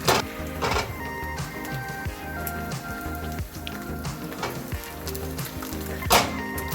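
An egg frying in a very hot pan while the whites are broken up with a utensil: a steady crackling sizzle with scattered scraping taps and a couple of louder clacks, close and continuous.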